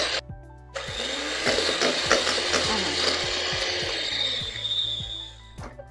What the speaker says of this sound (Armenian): միացնում եմ հարիչը և հարում եմ այնքան, որ գույնը փոխի